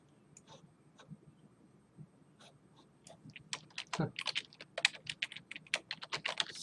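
Close typing on a computer keyboard, with sparse, irregular key clicks at first that build into quicker, denser bursts of tapping, with no voices.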